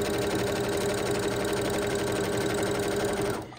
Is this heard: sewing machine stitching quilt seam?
yes